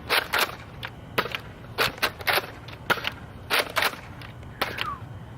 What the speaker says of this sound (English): I'm gonna fire now 5 without the barrel extension